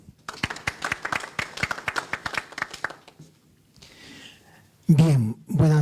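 Audience at a public health research ethics conference breaks into applause, a dense burst of claps for about three seconds that thins out, followed by a voice speaking.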